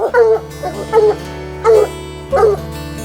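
Hunting dogs bay and bark in four loud, drawn-out bursts close by, each a howling yelp separated by brief pauses.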